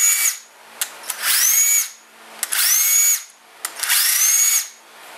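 A power tool, likely an impact driver, works a cylinder head stud loose on a KTM engine, firing three close, loud bursts of whirring rattle separated by short pauses, with no talk.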